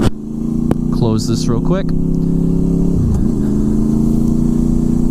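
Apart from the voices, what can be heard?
Honda VFR800 motorcycle pulling away in first gear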